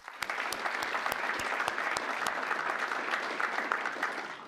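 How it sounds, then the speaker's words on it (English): Audience applause at a security forum plenary session, a dense, steady clapping from a large crowd that continues throughout without any speech over it. "Can we just applaud Steve Marcus,"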